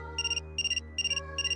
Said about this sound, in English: Phone? Who's calling us at this hour?